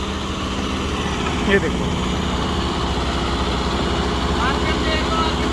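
A tractor engine running with a rotavator attached, a loud, steady low rumble and vibration close by with someone briefly speaking over it.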